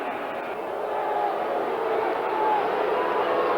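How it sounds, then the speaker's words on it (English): A football stadium crowd at an Eagles–Cowboys game grumbling and murmuring in displeasure after a referee's call, a broad, steady roar of voices swelling slightly, heard alone without commentary. "Crowd not happy with the call."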